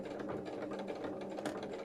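A sewing machine in need of a service stitching in a zip, a faint, continuous mechanical whirr with a rapid rhythmic chatter throughout, no speech.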